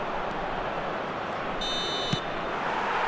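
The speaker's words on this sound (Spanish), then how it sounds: "Suena el pitido del árbitro." A referee's whistle in a football video game sounds as one short, shrill blast over steady roaring stadium crowd noise.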